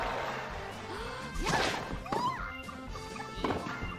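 A tennis ball smashed in Mario Tennis on the Nintendo 64, heard as several sharp, loud cracks with whooshing swings. Game music and effects play underneath.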